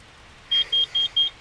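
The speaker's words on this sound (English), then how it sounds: "One thing you should always have though, when using one of these fires, carbon monoxide alarm." Carbon monoxide alarm being tested in a hot tent camp, four short, loud, high-pitched electronic beeps in quick even succession, alone against a quiet background.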